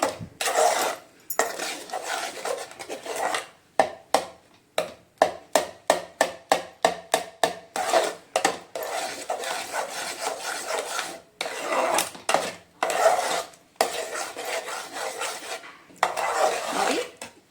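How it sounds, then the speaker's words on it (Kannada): Mango jam is stirred in a pan with repeated scraping and rasping strokes, some in quick rhythmic bursts and others in longer sweeps, close and clear. "ಇದೇ ಥರ ನಿಧಾನಕ್ಕೆ ಒಂದು 20 to 30 ಮಿನಿಟ್ಸ್ ಮಿಕ್ಸ್ ಮಾಡ್ತಾನೇ ಇರಬೇಕು."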